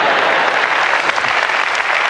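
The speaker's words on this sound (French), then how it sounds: "Là, ça méritait un applaudissement." Loud, close applause from a comedy club audience during a stand-up set, dense rapid clapping held at full strength throughout the short stretch.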